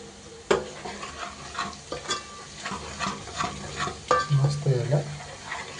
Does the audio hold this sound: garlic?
yes